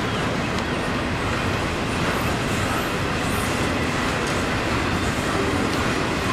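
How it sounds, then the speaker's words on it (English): A long freight train rolls past near Birmingham, Alabama, making a steady, loud rumble and clatter that holds without a break for the whole stretch. "And the train lasts forever."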